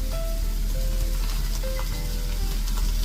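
Ginger garlic paste sizzles in a hot pan while masala pav is cooked Mumbai street style, a steady, dense crackle and hiss with faint scraping and clinks throughout, heard alone.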